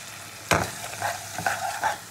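Spice paste for bhola fish curry fries in a pan with a little hot water, giving one sharp hiss and then a few soft stirring scrapes over gentle sizzling.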